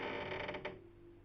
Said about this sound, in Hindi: कुछ मिनट बाद अचानक कमरे की खिड़की ने बहुत धीमे से आवाज की